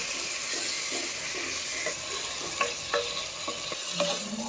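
Marinated mutton sautéing in spices in a hot pan, a steady sizzle under sharp scraping clicks of a spoon stirring at irregular intervals, close and alone with no voices.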